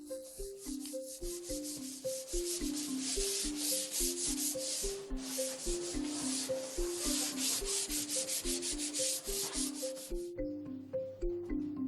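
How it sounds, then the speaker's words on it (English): Waterproof sandpaper rubs dry over a black lacquer surface in quick, regular back-and-forth strokes, a close, even scratching rhythm with no talk. "the surface is again polished with waterproof sandpaper. This time, dry polishing"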